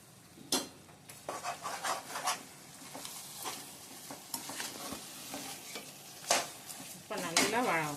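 Quail gravy with ground masala and salt being sautéed in a pan, with repeated stirring and scraping strokes and a light sizzle running throughout, close and moderately loud, with no talk.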